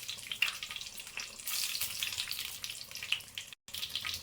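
Curry leaves, dried red chilies and about ten cashews, added with mustard seeds, crackle and sizzle in hot oil, a steady bright hiss with a few sharp pops and a brief cut to silence near the end.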